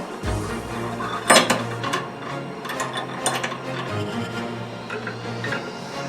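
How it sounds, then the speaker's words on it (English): An Allen wrench turning to tighten a Moen Kingsley double-handle widespread bathroom faucet during installation, giving small metallic clicks and scrapes. A sharper clink stands out early, and a low steady hum runs underneath. "now I'm going to use the Allen wrench that they gave me, and then we're going to tighten it"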